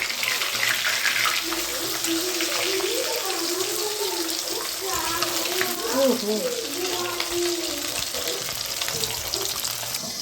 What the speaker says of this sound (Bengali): ফাটবেই ফাটবে এই জন্য আমার খুব ভয় লাগে পাবদা মাছ ভাজবে